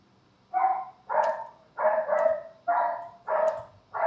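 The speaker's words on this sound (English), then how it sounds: "what is wrong with this dog though?" A dog barks six times in quick, evenly spaced bursts, close and fairly loud, each bark short and slightly whiny, with no talking over it.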